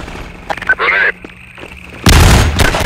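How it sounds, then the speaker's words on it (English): A grenade explodes in the first-person shooter Half-Life 2, one loud, close, broadband boom late in the moment, preceded by short bursts of game noise and a voice. "Grenade."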